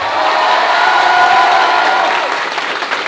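A crowd bursts into loud, sustained applause and cheering at a French national service gathering, a thick mass of clapping that fades slightly toward the end.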